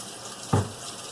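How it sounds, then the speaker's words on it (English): Tap water gushes briefly into a sink to wet a makeup brush: a single short burst of running water, close and moderately loud, with no talking. "The first thing I like to do is wet the brush."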